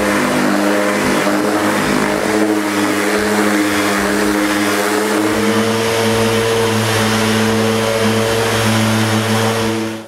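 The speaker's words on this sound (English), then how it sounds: "I just need to sand the floor. This is a small sanding job." Power sander running continuously and loudly on a birch plywood veneer floor in a new workshop mezzanine, a steady mechanical drone with a strong hum, stopping abruptly at the end.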